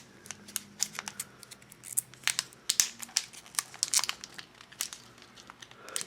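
Crinkly plastic packaging being pulled open during an unboxing, with close, irregular bursts of crackling and tearing that come in quick clusters.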